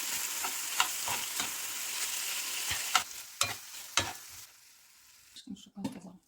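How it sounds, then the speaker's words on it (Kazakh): Chicken pieces fry in a pan with a continuous bright sizzle, punctuated by sharp stirring scrapes and taps of a spatula; the sizzle drops away near the end, leaving a few louder clatters. "Жаңа тауықты қуырып алып қойдым"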